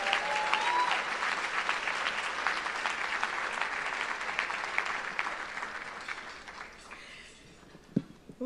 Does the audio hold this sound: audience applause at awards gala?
yes